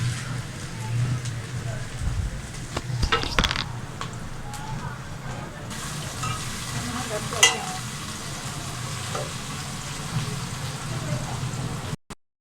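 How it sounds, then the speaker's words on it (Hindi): Ginger garlic paste fries with browned onions in a pan, a soft steady sizzle with occasional stirring scrapes and clinks, close and moderate in level, ending with a sharp clunk. "अब हम अदरक लहसुन का पेस्ट ऐड करेंगे। प्याज आप ब्राउन हो चुका है।"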